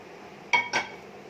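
Two quick, light clinks close together as roasted spices are tipped from a pan into a steel mixing jar in a home kitchen, a brief metallic tap pair against a quiet background.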